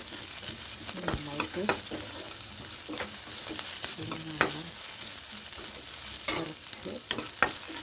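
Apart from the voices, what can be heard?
frying onion with curry leaves in a pan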